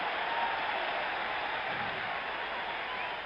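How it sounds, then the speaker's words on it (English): A dense, steady roar from a baseball crowd at Yankee Stadium, cheering after an out, sustained and even across the whole stretch with no single voice standing out. "This Yankee crowd will be roaring all night long with every single out"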